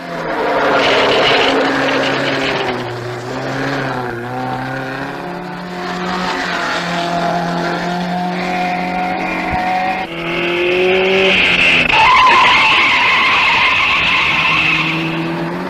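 An Alfa Romeo rally car climbing a mountain pass during the 1958 Coupe des Alpes, its engine droning loudly and shifting pitch through gear changes with tire squeal and skidding, close and continuous throughout.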